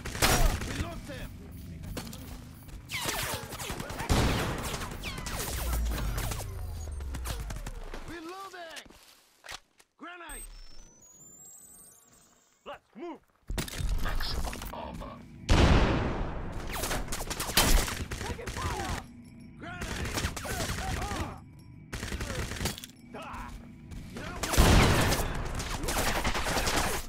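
Bursts of gunfire ring out in Crysis Remastered on PS5, with sharp shots and rattling volleys mixed with footsteps, mechanical clanks and shouting voices, separated by a quieter stretch in the middle.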